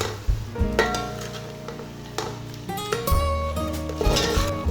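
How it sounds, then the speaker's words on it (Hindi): Tomatoes, green chilies and lemons get stirred in a pan with a little water, a steady wet sizzle broken by repeated scraping and clinking strokes of a spoon against the pan, close and continuous. "इसे अच्छी तरह मिक्स कर लेंगे।"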